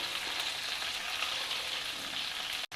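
Food frying in oil on a low flame for a South Indian vegetarian meal, a steady, close, hissing sizzle that holds evenly throughout before a brief dropout near the end.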